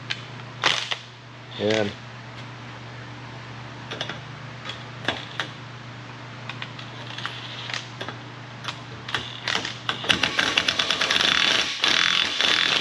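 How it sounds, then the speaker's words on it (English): A small drywall impact driver at work during a carrier bearing replacement on a Chevy K2500, giving scattered sharp clicks and knocks before breaking into a dense, rapid hammering rattle near the end, with a single brief spoken word. "It's just a little drywall impact."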